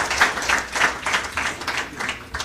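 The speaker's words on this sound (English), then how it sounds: "So please give a round of applause for Gita." A small audience at a urology resident graduation claps for an honoree, a thin, nearby patter of individual claps in an uneven rhythm.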